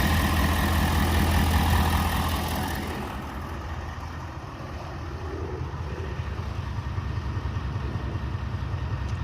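A 2025 Ford F-250 Super Duty with the 6.7 engine idles steadily after an oil and filter change, a loud continuous low rumble that eases slightly midway then holds, with no talk.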